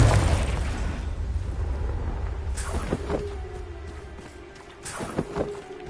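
A booming Confringo fire-spell blast in Hogwarts Legacy opens with a loud rumble that decays, followed by sharper cracks and pops of the magical explosion in the game's combat.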